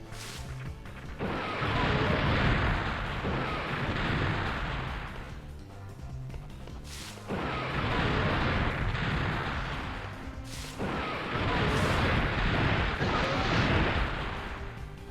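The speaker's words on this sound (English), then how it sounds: "I believe if I shoot the rocket, it'll also track the velociraptors." Rocket launcher fire in the video game Dino Crisis sets off three long, loud roaring blasts, each trailing into a rumbling explosion, separated by brief quieter gaps.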